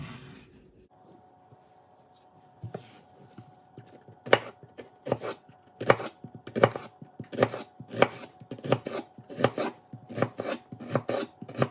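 An onion is chopped with a knife on a cutting board, a fast run of sharp, evenly spaced thuds that start sparse and build into a steady rhythm, close and clear with no talking.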